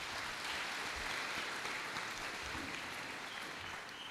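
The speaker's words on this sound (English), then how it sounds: "Can we just give Ian a round of applause, please?" An audience at an award ceremony gives sustained, even applause that is steady and fairly faint, with no talk over it.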